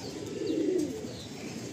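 Pigeons in a loft cooing softly, a low continuous burbling murmur close by, with no talk over it.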